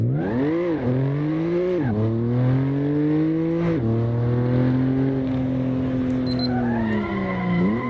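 In the Assetto Corsa racing game, a stock BMW or Mercedes exhaust drones with a smooth, moderate tone, revving up through several gear changes with rising pitch that drops at each shift, heard alone and fairly close.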